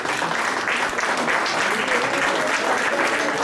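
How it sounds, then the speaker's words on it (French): An audience at an evening celebration applauds loudly for a performer called to the stage, a dense, steady clapping that holds throughout, with a few voices faintly mixed in. "Yves Naudin, qu'on applaudit bien fort"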